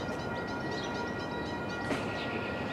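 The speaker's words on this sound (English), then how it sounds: "Incoming train." A Siemens Charger diesel locomotive train rumbles steadily nearby as it arrives at a station in downtown San Diego, with a constant mechanical drone and a faint tonal whine, with no talking.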